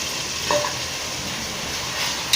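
Green field beans sautéing in a pan for biryani, a continuous close sizzle with a brief stirring scrape, no talk.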